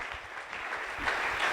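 A church congregation claps steadily during a French-language sermon on the book of Esther, giving a short, dense burst of applause with no voice over it.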